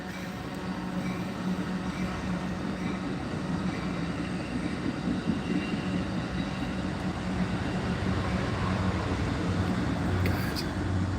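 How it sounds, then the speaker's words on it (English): An Amtrak Pacific Surfliner passenger train rolls past, giving a steady, loud low rumble of rail noise that holds for the whole stretch with no break. "Amtrak coming by. Was it the Pacific Surfliner, I think?"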